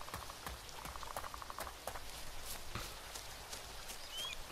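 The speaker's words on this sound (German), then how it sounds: "klingt halt sehr rauschig heute, der Regen" Rain falls in the survival video game Epoch on the Namalsk map as a faint, hissing patter, steady throughout with scattered small ticks and taps on top.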